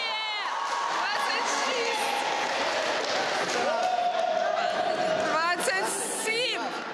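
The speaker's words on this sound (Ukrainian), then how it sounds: "Оплески!" A school crowd applauds and cheers for a village school principal, with dense clapping, whoops and excited chatter throughout, and a few sharp whistle-like calls rising over the noise.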